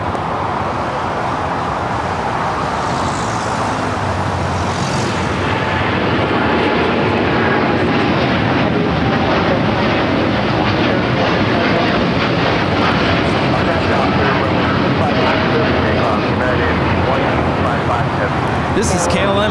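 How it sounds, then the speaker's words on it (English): A KLM Boeing 787-9 Dreamliner takes off at LAX with a loud, sustained jet engine roar that builds and holds steady, while a voice talks over it. "This is KLM 602 taking off to Amsterdam on the 787-9 Dreamliner."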